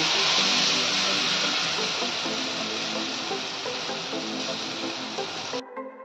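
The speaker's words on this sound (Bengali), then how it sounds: "ডাল বাটাটা এই তেলে আমি ভেজে নেব।" Ground lentil paste frying in hot oil for a Bengali mocha dalna, a steady dense sizzling hiss running loud and continuous until it cuts off abruptly near the end.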